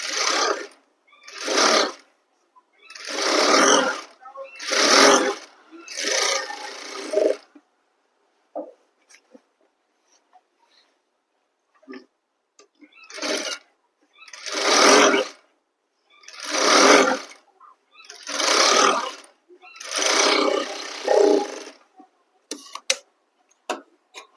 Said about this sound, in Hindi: अब इसमें सिलाई लगाएंगे